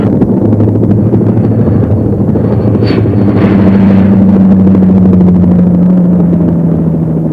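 A Sikorsky Sea King search-and-rescue helicopter drones with a loud, continuous low rotor and engine rumble, heavy and close, with a steady hum rising partway through and wind buffeting.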